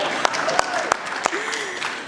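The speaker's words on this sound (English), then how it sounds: "you can applaud" Applause from guests at a Pride Month reception hosted by the Secretary of State, a crowd clapping under a few sharp, louder claps and some faint voices and whoops in the room.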